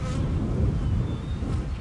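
Honey bees buzzing around a hive with a laying worker, a close, loud, continuous low droning hum from many insects with slight swells and no voices.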